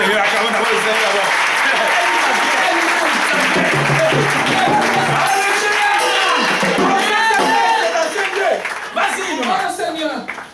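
A church congregation applauds and cheers during a Sunday service, with steady, dense clapping from a large crowd that holds strong before thinning near the end, and voices mix in throughout.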